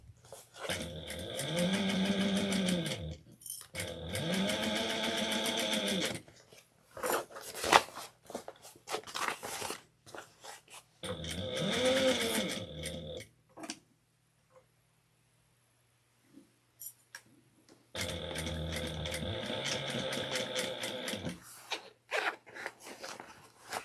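A sewing machine back-stitches over tote bag handles in several whirring bursts of a few seconds each, with pauses, fabric handling and small clicks between runs, close and clear.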